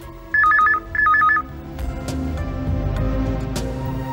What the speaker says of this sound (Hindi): अभी आपके ऑफिस में जो घंटी बजेगी वो फादर के फोन की घंटी है